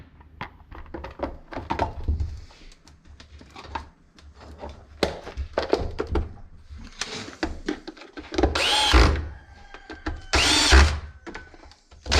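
An old chainsaw that sat unused for years is started at full throttle, its small engine sputtering in short uneven bursts before two louder sustained revs near the end.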